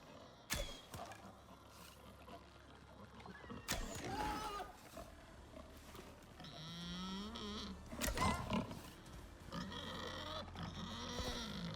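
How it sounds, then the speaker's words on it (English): Pigs in the open-world survival game Icarus: grunts, snorts and squealing oinks from several animals, some close and some farther off, scattered across the stretch with sharp thuds and game noises between them. "I hear a lot of pigs."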